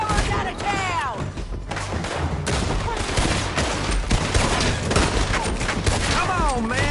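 A loud shootout in the video game Red Dead Redemption 2 brings rapid, overlapping gunfire bursts in dense volleys, while voices shout over the shots.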